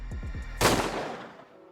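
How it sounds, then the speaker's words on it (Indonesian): A single pistol shot in a film: one sharp, loud crack with a fading tail, after a few brief rising tonal chirps. "ia bergegas mengambil pistol milik detektif Dongko dan menembak Junyong tepat di"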